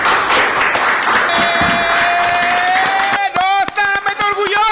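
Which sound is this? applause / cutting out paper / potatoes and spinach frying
applause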